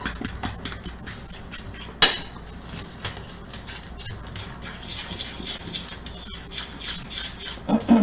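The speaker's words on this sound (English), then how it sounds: "So I like to mix them up just with a fork at first." A fork scrapes and taps against a bowl while mixing homemade Italian biscotti dough with chocolate chips, giving irregular clinks and scratches with one sharp knock, fairly close and without talk.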